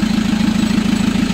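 A Chevrolet Captiva AWD with a turbocharged engine and throttle-fault symptoms idles with a loud, even, pulsing rumble, steady and close up for a brief moment.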